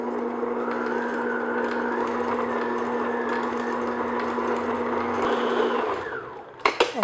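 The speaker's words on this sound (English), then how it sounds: "So now I'm just going to beat this on medium-high just to get everything all mixed" Electric mixer running on medium-high through snickerdoodle batter, a loud steady motor whir with a constant hum that shifts briefly in pitch before cutting off near the end, followed by a few clatters.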